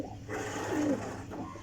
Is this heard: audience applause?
no